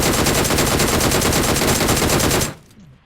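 Sustained, rapid automatic gunfire pours out loud and close in a dense, unbroken burst for about two and a half seconds, then cuts off abruptly, leaving a faint low tail.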